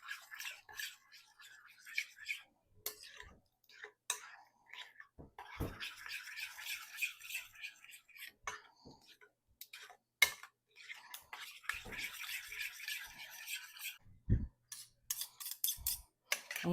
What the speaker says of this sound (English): we're just going to stir this together.